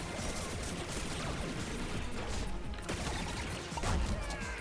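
A dense, continuous roar of gunfire and blasts in Plants vs. Zombies Garden Warfare 2 fills the whole stretch, with a heavier explosion boom standing out near the end.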